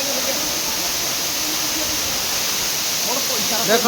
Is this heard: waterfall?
yes